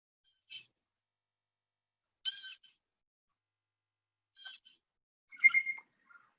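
Recorded blue jay calls in a quiet setting: four short, harsh separate cries spaced a couple of seconds apart, the last one louder and more nasal, with silence between.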